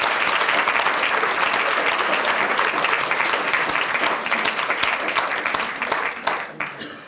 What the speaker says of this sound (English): I'd like you to give them a big round of applause of welcome.